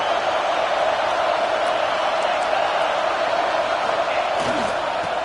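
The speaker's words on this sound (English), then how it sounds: "This crowd bringing the energy and noise early." A college football stadium crowd at Auburn versus Vanderbilt cheering and roaring, a dense, loud, continuous wash of noise with scattered whoops and no single voice standing out.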